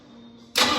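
A 1964 Ford F-100 pickup with a 289 V8 cranks and catches, going from a quiet hum to a sudden loud, broadband engine roar that holds steady for the final moment.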